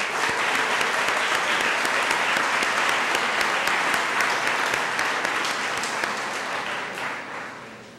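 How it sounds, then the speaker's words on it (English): Audience at a college day event applauding, a dense sustained burst of clapping filling the room, loud and continuous before fading slightly at the end. "Let's give all these individuals a round of applause."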